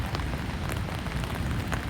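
Rain falls steadily on a foggy day around Niagara Falls, heard as a dense, even patter and hiss on surfaces nearby, with no talk.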